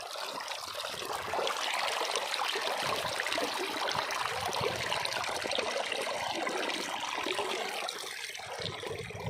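Irrigation water gushes into a chickpea field as a continuous broadband splashing flow, close and steady throughout with no voices.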